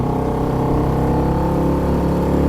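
A 2.3hp petrol four-stroke outboard on a small tender runs at a steady, even drone, close and continuous with no voices.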